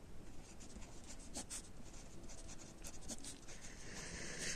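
Chalk or marker scratching across a board during a Class 10 maths lesson on linear equations in two variables, a steady faint run of writing strokes with short taps, close and quiet with no talking.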